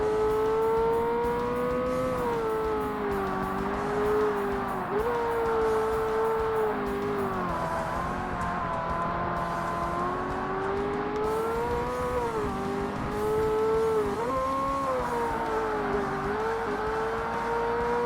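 A Ferrari 360 Modena Cup race car in the Forza Motorsport game on Xbox screams at high revs, its engine pitch rising and dipping through gear changes and corners, loud and continuous throughout.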